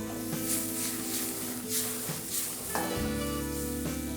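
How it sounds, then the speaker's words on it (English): Steady hiss of vegetables sizzling in a hot pan, with occasional stirring scrapes and a brief clatter near the end, close and continuous. "as I'm sauteing my vegetables here"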